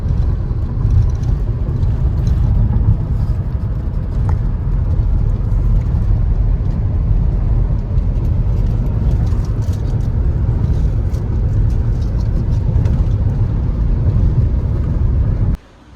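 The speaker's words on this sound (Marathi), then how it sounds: "आता रोड जरा चांगला आहे त्यामुळे गाडी आपण पळवतोय." A car drives at speed on a good stretch of road in Maharashtra's Konkan region on the way to Malvan, giving a steady, loud rumble of engine and road noise throughout that cuts off abruptly at the very end.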